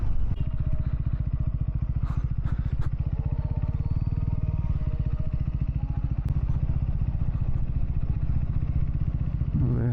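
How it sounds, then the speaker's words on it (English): A Royal Enfield-style Triumph Scrambler 400X motorcycle rides slowly into temple parking, its single-cylinder engine thumping steadily and close for the whole stretch, with occasional clatter and knocks over the engine. "Where I have to park my bike."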